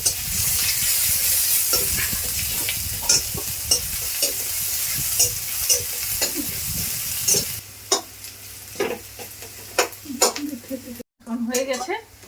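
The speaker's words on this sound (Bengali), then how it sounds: "এখন ভর্তা মাখার জন্য আমি পেঁয়াজ ভাজবো, শুকনো লঙ্কা পেঁয়াজ" Onion, garlic and dried red chillies sizzle loudly in oil in a wok, and a utensil stirs and knocks against the pan in irregular clinks as the frying gradually quietens.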